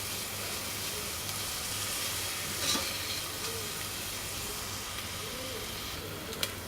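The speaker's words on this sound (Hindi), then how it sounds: "इसको 3-4 मिनट तक अच्छी तरह सौते कर लेंगे ताकि इसका कच्चापन ख़त्म हो जाए।" Chopped onions sauté in a hot pan while cooking for a chicken bread recipe, giving a steady, moderate sizzling hiss with faint stirring clicks throughout and no talking.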